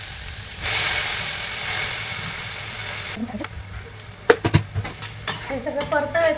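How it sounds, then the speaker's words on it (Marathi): Cabbage and moong dal stirred and sautéed in a pan make a steady, close frying sizzle at first, then give way to a run of scraping stirs and sharp clinks of the spoon against the pan. "हे सगळं परतवायचं आणि बारीक गॅसवर कणी झाकण ठेवून घ्यायचं"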